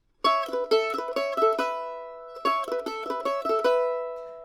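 A mandolin plays a quick bright melodic phrase twice with sustained open strings ringing underneath as drones, clear and close, separated by a short pause.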